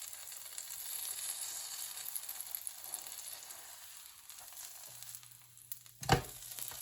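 A quesadilla frying in a pan gives a steady, moderate sizzle that runs throughout, with a brief louder clatter near the end as it is flipped.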